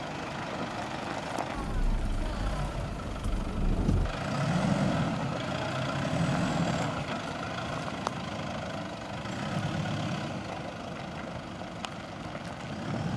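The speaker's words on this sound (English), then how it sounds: "they're in a Toyota Fortuner 3-litre D4D." Toyota Fortuner 3-litre D4D 4x4 running during a 4x4 club off-road challenge qualifying round, a steady mid-level engine rumble that holds throughout with slight swells and no one talking.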